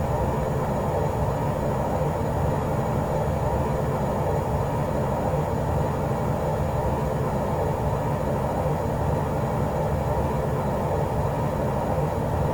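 B-29 bomber aircraft engines in a flight combat video game, a constant, dense, droning rumble that stays loud and unchanging throughout, with no talking.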